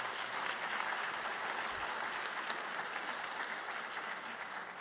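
Sustained, even applause from a crowd at a school district Teacher of the Year celebration honors the staff and stage crew, a dense wash of clapping heard faintly at low level.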